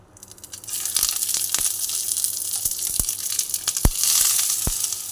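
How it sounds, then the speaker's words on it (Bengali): Pieces of pomfret fish dropped one by one into hot oil, a sharp crackling sizzle broken by several loud pops and spits, building and holding close and clear with no talk. "এবার তেলটা গরম হয়ে গেছে, আমি এক এক করে দিয়ে দেবো"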